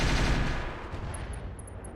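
A Gauss rifle fires in a Roguetech BattleTech mech battle, a heavy booming blast that decays over two seconds with faint high clicks ringing near the end.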